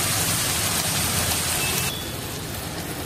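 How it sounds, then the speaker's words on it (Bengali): Masala for a curry frying in a pan gives off a steady, close, hissing sizzle that softens slightly partway through. "সমস্ত কিছু দিয়ে এখন আমি ভালো করে এটা ভেজে নেব"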